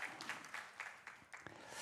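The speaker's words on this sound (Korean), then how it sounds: "보내주신 우리 하나님께 영광의 박수를 올려드리면서 환영하겠습니다" Church congregation clapping together during a Sunday morning service to welcome newcomers, a soft, fairly faint wash of applause with repeated clap bursts and no talk over it.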